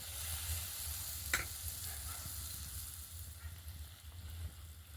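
Batter-coated ripe banana fritters fry in hot oil with a soft, continuous bubbling sizzle and one sharp tap near the start, quiet and close throughout.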